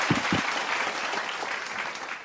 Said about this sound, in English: let's give him a round of applause po, or virtual applause to our Kuya Ate Josie and Kuya Romel Jan Sungkayawon